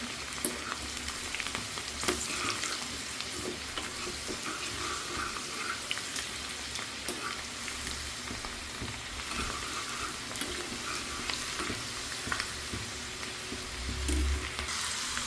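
Ingredients for chutney fry in a pan with a continuous crackling sizzle, close and even for the whole stretch, with occasional small pops and stirring scrapes and no talking.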